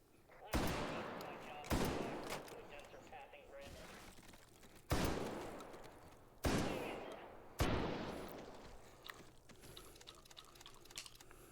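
Tank shells fire in a video game, five loud booming blasts spaced irregularly, each with a long fading echo, over a low rumbling background.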